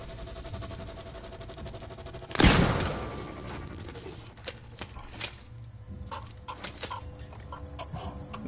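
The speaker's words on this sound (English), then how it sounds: "Let's test out the fucking bolt gun." A bolt gun fires in the game Alien: Isolation, with one sharp, loud blast followed by a scatter of quieter clicks and mechanical clatters in a sparse, near-silent space.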